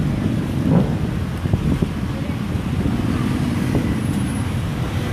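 Late-night street ambience in Bang Saen, Thailand: a steady low rumble of passing car traffic with wind buffeting the microphone, continuous and moderately loud with a few brief thumps.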